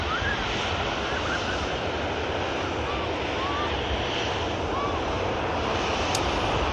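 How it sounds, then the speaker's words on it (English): A Ryanair Boeing 737 taxis at Manchester Airport, a steady broad jet roar with a wind-like wash that holds evenly throughout, while another aircraft takes off in the background. "737 taxiing past, just as another Ryanair is on the roll."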